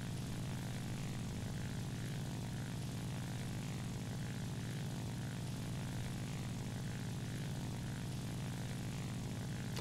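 A Japanese propeller fighter in War Thunder drones steadily throughout, its engine a loud, continuous low roar with a dense rumbling hum and no voices over it.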